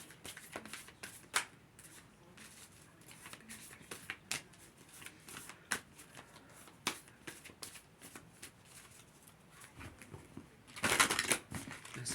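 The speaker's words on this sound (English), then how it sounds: "The spirit deck is a little stiff." A slightly stiff deck of ancestral spirit guide cards is shuffled by hand, giving soft, irregular riffling clicks and flutters close up, ending in a louder, denser riffle burst near the end.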